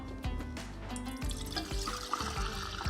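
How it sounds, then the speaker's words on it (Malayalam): Apple juice pours in gurgling glugs into a jar, close and fairly quiet, with rhythmic splashing pulses throughout. "അതിനകത്തേക്ക് നമുക്ക് ആപ്പിൾ ജ്യൂസ് ഒഴിക്കാം."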